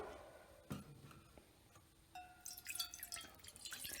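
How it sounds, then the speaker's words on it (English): Clear stream water poured into a pot on a burner, splashing and trickling, with drips and clinks at first, then a steady, brighter pouring stream. "we're going to pour in some of that stream water"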